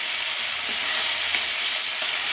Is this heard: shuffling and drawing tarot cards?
no